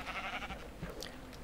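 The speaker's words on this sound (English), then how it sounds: "I keep finding sheep. We've got tons of sheep." Minecraft sheep bleat faintly over steady game background sound. The calls are short, soft and wavering.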